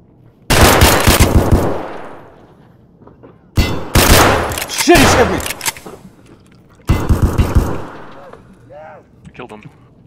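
Escape from Tarkov gunfire: three loud bursts of rapid automatic fire, each followed by a decaying echo and separated by short pauses, with brief voices in the quieter gaps.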